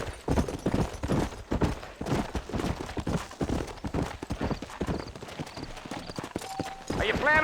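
Horse hooves clip-clopping at a steady riding pace in the Western video game Red Dead Redemption, close and continuous under conversation between riders.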